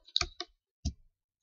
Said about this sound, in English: and click submit